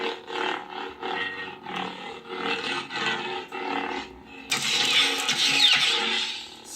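A Saberforge Outcast Proffie lightsaber with a pixel blade hums in a deep, wavering roar that rises and falls with each swing. About midway it surges into a louder, crackling blast.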